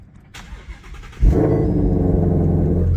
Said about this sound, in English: Absolutely stunning exhaust note when the vehicle fires up.